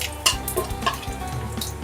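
Whole spices, bay leaf, cinnamon and cumin, frying in hot oil in a pan for a chicken kosha, a close crackling sizzle with scattered pops and small spits.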